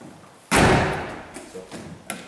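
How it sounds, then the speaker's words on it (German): A VW tailgate with a newly replaced lock microswitch slams shut once with a loud, close thud, followed by a few faint latch clicks and a small knock. "Wir schließen jetzt einmal den Kofferraum"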